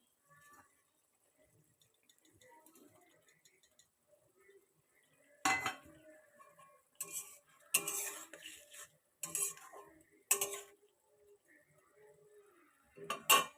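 Puti fish go into a boiling spicy curry in a pot, heard as scattered close clatters and wet splashes separated by near silence, with light clinks of a spoon against metal.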